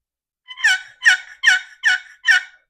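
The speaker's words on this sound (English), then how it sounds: "You can do 3 or 4 yelps" A wooden box call sounds five evenly spaced turkey hen yelps, crisp and raspy, close and loud, with silence between them and before the first.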